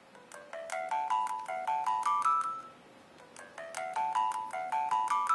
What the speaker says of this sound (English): imagine we got a metronome working through. 400 beats per minute. You hear that? That's where the phone is playing those beats.